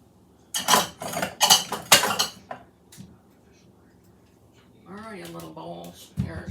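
Small bowls being pulled out and handled in a kitchen while making a tri-color pasta summer salad, giving several close, loud clattering clinks over about two seconds, then a pause before a voice briefly speaks.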